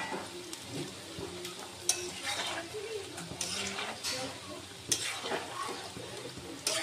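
Homemade gaja sweets fry in oil with a soft continuous sizzle while a spoon stirs them, giving occasional scraping knocks against the pan, fairly quiet and close.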